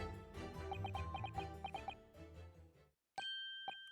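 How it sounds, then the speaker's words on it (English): Emergency alarm bell aboard a vessel, rapid repeated metallic dings ringing loud and close, then a brief pause and a few further bright clangs with a lingering tone. "The emergency alarm bell rings, and the vessel comes to a complete stop."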